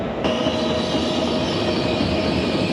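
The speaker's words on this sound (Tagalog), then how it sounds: "Wait, may train na dumadating, but it's platform 4." A train pulls in at an outdoor station platform in Italy, with a steady loud rumble of wheels and rail noise filling the whole stretch, plus a faint high squeal above it.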